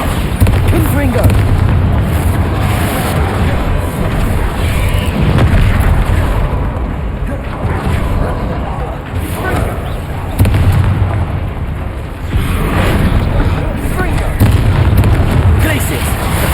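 Repeated Confringo fire-spell explosions in Hogwarts Legacy during a troll fight, a steady barrage of loud booms and bursts within constant dense battle noise, with voices mixed in.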